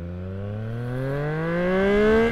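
A 2024 Triumph Street Triple motorcycle with a Yoshimura slip-on exhaust revs smoothly and steadily upward, its engine note climbing in pitch and loudness before easing off at the end.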